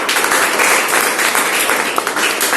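Audience applause at a science exhibition in India, a dense, continuous crowd clapping that stays loud and even throughout, with no talk over it.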